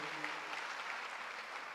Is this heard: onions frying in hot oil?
no